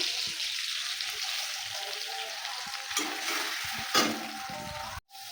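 Ginger, garlic and chili paste hits hot frying oil with tomato in the pan, giving a steady broadband sizzle that flares briefly near the end before cutting off, close and loud with no talk.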